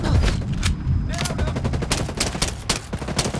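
Rapid automatic gunfire in the video game Ghost Recon Breakpoint, dense loud bursts of shots running almost continuously and close, with a voice speaking briefly under it.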